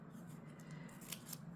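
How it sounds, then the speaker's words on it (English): Scissors snip through double-sided tape at a crafting table during sea glass jewellery wiring, a couple of quiet, crisp cuts close by against a faint background hiss. "I need my scissors."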